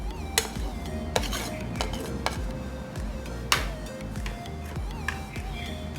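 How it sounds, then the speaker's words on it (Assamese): A spoon scrapes and clanks against a metal bowl while mixing chicken momo filling with ginger-garlic paste and black pepper, giving repeated sharp taps and rhythmic stirring scrapes close up. "গোটেইখিনি ভালকৈ মিলাই লওঁ"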